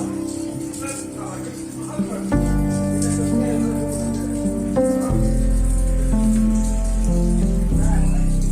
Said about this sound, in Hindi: फुल तेज बारिश है यहाँ पर।